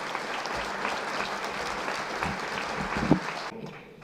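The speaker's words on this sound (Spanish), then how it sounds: "Un fuerte aplauso." Lecture audience applauding, a dense, even roll of many hands clapping that holds steady, peaks briefly, then cuts off and fades near the end.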